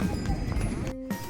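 Hooves clop in a steady, irregular patter from a bullock cart moving alongside people walking on a road, moderately close, over a busy outdoor background with a voice speaking.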